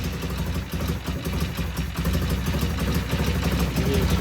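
A vintage British motorcycle engine idles close by with a steady low, lumpy putter and regular firing pulses, running on its own without talk.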